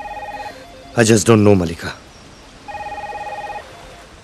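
Telephone ringing unanswered in a tense film scene, a repeated electronic ring in two bursts with someone speaking between them.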